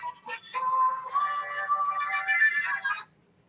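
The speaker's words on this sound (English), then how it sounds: "My phone's ringing." A phone ringtone plays as a bright melodic electronic tune for about three seconds, clear and fairly close, then stops abruptly into near silence.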